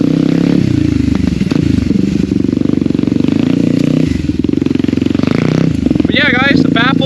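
Yamaha WR250R motorcycle with a GPR exhaust and its baffles removed, revving loud and raw close up with a steady crackling drone that dips and climbs, while a rider's voice talks over it.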